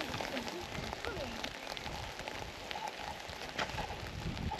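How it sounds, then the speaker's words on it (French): Rain falls steadily outdoors during a May pilgrimage at Saint Pierre Aumaître, a dense hiss with scattered drop impacts, while a voice speaks softly over it. "Alors, il pleut"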